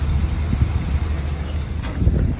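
A 2018 Isuzu NPR HD dump truck engine idles quietly, a low steady rumble close by with light wind noise over it and no talking.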